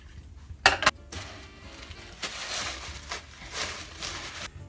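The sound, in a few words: stirring coffee in a Mickey Mouse mug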